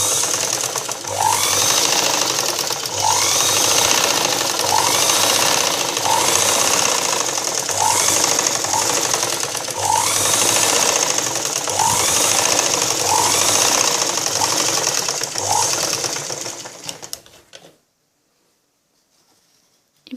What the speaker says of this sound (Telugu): మన హ్యాండ్ అటాచ్మెంట్ ఎప్పుడు కూడా 2 టైమ్స్ స్టిచ్చింగ్ చేసుకోవాలి